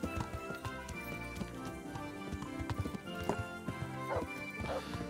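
A horse being ridden in Kingdom Come Deliverance clip-clops in a steady rhythmic gait, its hoofbeats mixed under a busy musical score and ambient sound at moderate level.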